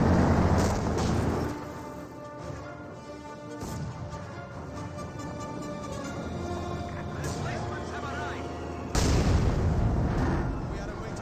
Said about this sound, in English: Mortar is trying to get some hits in.